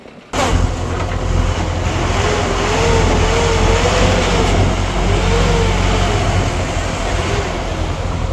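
A stuck vehicle's engine revs hard and continuously as it strains to pull free, a loud, close, sustained roar with rising and falling pitch after a brief quiet start.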